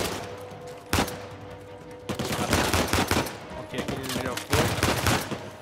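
Uncharted 4 firefight in a lost city, with loud sharp gunshots at irregular intervals and clustered bursts of rapid fire over a low background hum.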